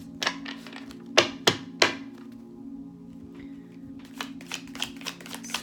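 Tarot cards are shuffled close by in a few sharp riffling bursts and taps, then a pause and a quicker flurry of softer card flicks over a low steady hum.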